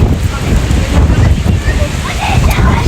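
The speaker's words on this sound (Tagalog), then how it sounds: "Doon sa loob ng church, sobrang lakas yung hangin." Strong wind roars and buffets against the microphone inside an Orthodox church in North Lebanon, a loud low rumble sweeping continuously with faint voices in the background.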